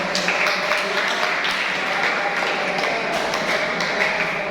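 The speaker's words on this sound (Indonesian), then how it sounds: "tepuk tangan" A classroom of seventh-grade students applauding a group's presentation, a steady dense wash of clapping from many hands held at an even level throughout, with faint voices mixed in.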